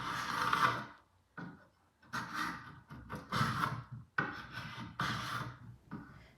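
A carbide scraper makes repeated rasping scrapes, stripping a thick lacquer top coat off wood in rhythmic strokes, about six passes with short pauses between, close up and fairly loud.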